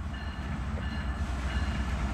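A freight train rolls through a railyard on a side track, a steady close rumble of wagons with a dense low roar and no horn.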